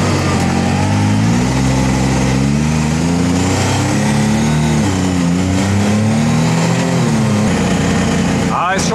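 Engine of a Can-Am Maverick R off-road side-by-side, a 240 hp machine, revving loudly and continuously in the open, its pitch rising and falling, with someone talking over it.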